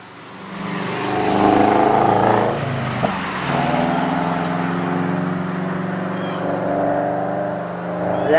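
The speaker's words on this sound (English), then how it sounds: "And there's a car chasing another car." Car engines roar past close by outdoors in a residential neighborhood, a loud sustained drone that swells and shifts as the vehicles speed through, with a brief sharp click partway.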